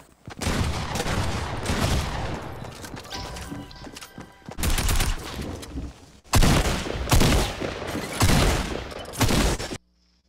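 Video game gunfire in dense loud bursts, rapid volleys and crashing impacts in several waves, then an abrupt cutoff to silence.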